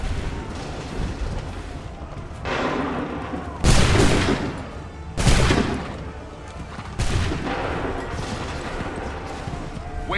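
Musket volleys in Assassin's Creed III, several loud broadband blasts of massed gunfire each trailing off into rumble, set against ongoing battle noise.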